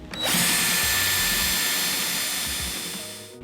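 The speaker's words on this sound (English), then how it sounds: "grab your drill with your 1/4-inch drill bit and go ahead and drill the holes" A power drill with a 1/4-inch bit bores into a metal bracket in one sustained, loud whine that starts abruptly and holds steady for a few seconds.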